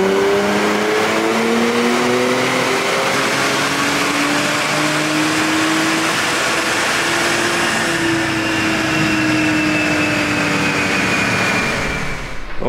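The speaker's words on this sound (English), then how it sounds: "let's get over here to the Vivid Racing dyno and start some after runs." Turbocharged Nissan Z engine running loud and sustained on a Vivid Racing dyno, rising harmonic tones showing steady acceleration through the gears, then cutting off abruptly near the end.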